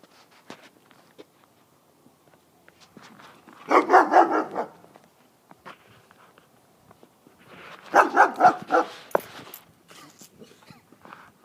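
A puppy barks in two clusters of quick, close yips several seconds apart, with footsteps and light shuffling in between, heard close with no talking.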